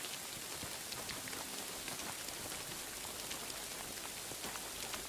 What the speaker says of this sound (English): And now it rains.